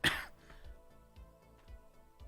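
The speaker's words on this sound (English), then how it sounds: "Cough." A single sharp cough bursts out at the start, close and loud, then fades into quiet background with faint low thuds.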